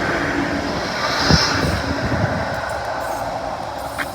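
A Melbourne tram rolls through a St Kilda station without stopping, a loud, steady rumble of wheels on rail with a brief squeal, passing close by and continuing throughout.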